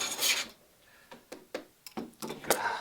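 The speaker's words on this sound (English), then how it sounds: "I end up planing a crown into it instead of flattening it out." Hand plane strokes rasp across wood while shaping the sheer of a Catalina Wherry boat, an initial longer shaving pass followed by several short, separate scraping strokes close by.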